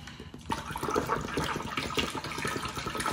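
Water runs from a tap into a pot for birria, a steady splashing rush that starts abruptly and continues evenly at close range with no talk.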